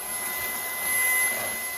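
A Ryobi 18V ONE+ cordless stick vacuum with a plastic nozzle whirs steadily while sucking up small debris, a continuous high-pitched motor whine that rises briefly as something is pulled in, with no talking.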